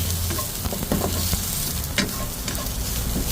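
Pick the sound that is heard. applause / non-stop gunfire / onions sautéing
onions sautéing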